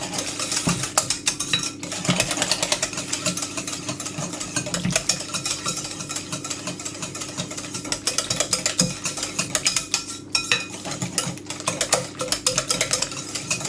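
Custard tart filling gets a vigorous whisk in a bowl, a steady, fast, close rattling of wires against the bowl that carries on without pause.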